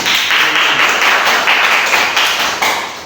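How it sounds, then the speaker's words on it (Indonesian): Classroom applause for a student during a lesson, a dense patter of hand claps from a group of students, fairly close and steady throughout with slight swells. "Bagus, tepuk tangan untuk Farhan."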